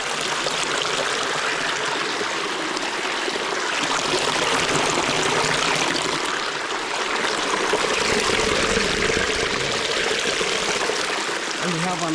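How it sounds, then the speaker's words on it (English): A water spring flows in a cave corner, a steady rushing trickle filling the space, close and continuous, with voices talking faintly under it. "we have another water spring coming from the other section"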